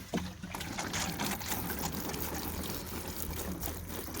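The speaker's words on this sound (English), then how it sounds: "And last but not least, we're going to water." Water pours and trickles over freshly planted bok choy seedlings set in toilet paper tubes in a garden row, a soft, close, splashing stream that runs steadily.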